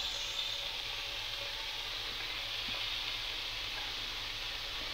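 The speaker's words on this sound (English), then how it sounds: "We're going to melt that butter and let it go a bit brown." Butter melts beside bacon-wrapped scallops in a hot pan, giving a soft, even sizzling hiss. It stays steady and fairly quiet from start to finish, with no other sounds on top.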